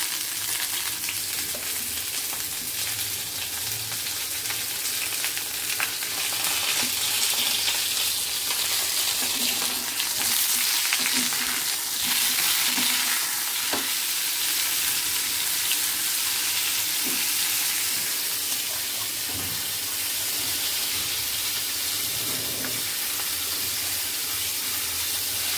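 Potato and cauliflower fry in a pan, giving a loud, steady sizzle throughout with faint stirring and scraping under it and no talking.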